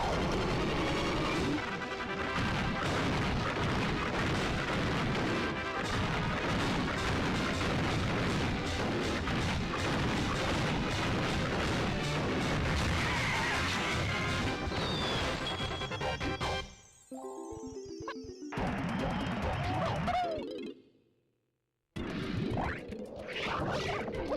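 Dense, roaring bursts of fireball explosions and crashing game effects in Donkey Kong 64's Angry Aztec level fill the clip, loud and continuous, broken by brief gaps and electronic tones near the end.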